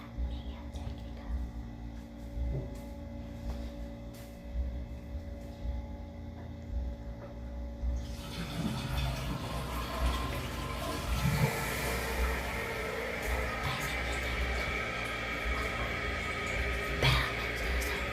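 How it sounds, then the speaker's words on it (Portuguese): A toilet flushes in a quiet room: a low steady hum, then a sudden loud rushing whoosh of water about halfway through that keeps churning and gurgling nearby until the end. "eu vou dar descarga e vocês vão ver a minha técnica."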